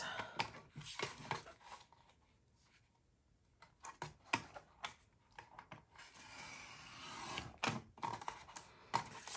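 Vinyl sheet being cut by hand while making a glitter-stripe tumbler, heard as a series of close, faint scraping and clicking cuts with short pauses between them.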